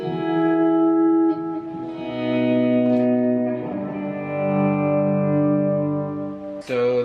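An electric guitar on a swell setting, with reverb, delay and crystal effects, plays sustained, slowly swelling chords. They ring in long overlapping layers with soft attacks and a washy tail, loud and alone with no talk.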